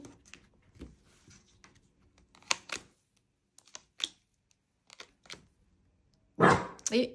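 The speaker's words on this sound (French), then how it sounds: "Et petit Doiti qui a vu un toutou à la fenêtre, hein, comme d'habitude, donc il n'est pas content" A small dog barks at another dog seen through a window in a quiet room. Sharp, scattered barks come in short bursts, ending in a loud close outburst, while someone talks between them.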